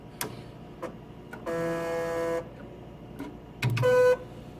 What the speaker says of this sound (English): This is just to demonstrate that the machine is operational.